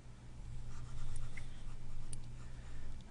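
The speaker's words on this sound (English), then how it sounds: "So let's erase this." Eraser rubbing out writing on a board during a worked math practice problem, a faint steady scrubbing with soft swells, alone without any talk.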